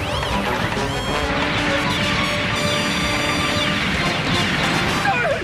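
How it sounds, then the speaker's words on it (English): Cartoon weapon blasts and crashing impacts fill a Transformers Energon battle scene, dense layered laser-like zaps and explosions sounding loud and continuous with bright ringing tones. "They're shooting at us."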